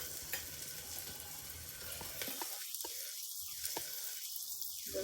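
Garlic and ginger frying in a pressure-cooker pot for a mutton stew, a steady sizzle through the clip that thickens into three swelling bursts of hiss toward the end.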